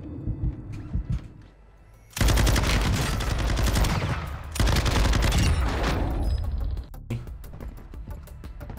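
Automatic weapon fire in Call of Duty: Warzone: two long, loud rapid bursts of gunfire close by, separated by a brief pause, followed by quieter mechanical clicks and creaks, with faint sounds before the shooting starts.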